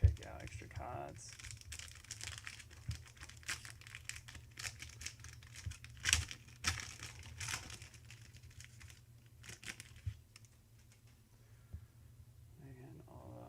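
The foil wrapper of a 2020 AFL Footy Stars card pack crinkles and tears in quiet, irregular bursts close by, with softer rustling between them and a voice talking now and then.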